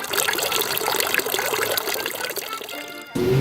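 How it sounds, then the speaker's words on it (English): Water runs steadily from a street fountain in Basel, a continuous splashing trickle close by that cuts off abruptly near the end into a different louder noise. "there are water fountains everywhere"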